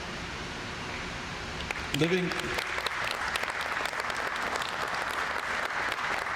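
An indoor event audience claps steadily, a dense sustained applause building after a brief moment and continuing to the end, with a faint voice near the start.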